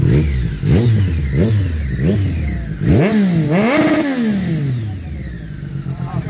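A motorcycle bought from AliExpress revs in a run of quick, close throttle blips. One bigger, longer rev follows and then winds down to a rough idle.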